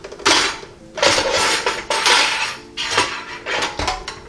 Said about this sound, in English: Alright, set the dome down.